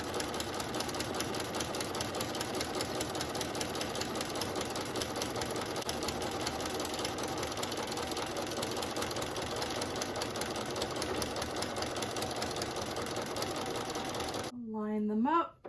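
A sewing machine runs steadily for a long stretch while quilt blocks are chain pieced one after another, its rapid even stitching rhythm close and constant before stopping abruptly near the end.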